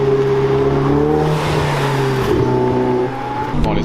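High-performance sports cars, including an AMG GT Black Series, Ferrari SF90 and 488 Pista, rev and accelerate at a lakeside car event, engine tones rising and shifting loudly and close, with a brief clatter near the end.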